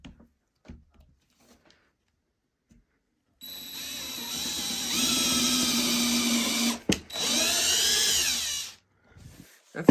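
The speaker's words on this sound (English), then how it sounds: "There, got your 4 holes drilled." Electric drill bores holes in wood for a wooden bird feeder, a steady whirring run of about three seconds, a short break, then a second close, loud burst with rising pitch as the bit bites, quiet before and after.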